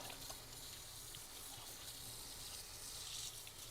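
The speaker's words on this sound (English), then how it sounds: "I'm just going to rinse something off my hands real quick" Hands rinsed under a running kitchen tap, a soft, steady gush of water that carries on evenly throughout at low volume.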